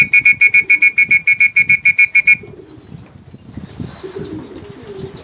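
Pigeons give soft, low coos close by after a run of about a dozen evenly spaced electronic beeps, the cooing continuing faintly to the end.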